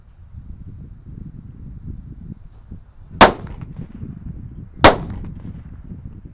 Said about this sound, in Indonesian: Dan ini mercon buntelan kertas sunflower ya